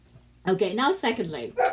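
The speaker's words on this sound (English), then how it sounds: "that's my dog." A pet dog in a home office barks a few times close by, its sharp barks interleaved with a person speaking over it.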